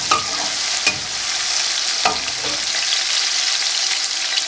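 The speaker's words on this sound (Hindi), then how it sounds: "टमाटरों को हम 1 मिनट के लिए फ्राई कर लेंगे।" Tomatoes and finely chopped green chilies fry in hot oil while being stirred, a steady close sizzle with a few sharp scraping strokes of the spoon, no talking.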